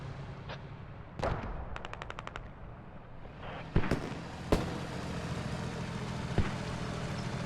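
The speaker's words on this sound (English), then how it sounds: "You actually have mortars now in the middle of the road." Squad gameplay on urban streets brings anti-tank fire and mortar rounds, heard as scattered sharp booms and blasts alongside a quick rattling burst of automatic fire, all moderately loud and spaced irregularly.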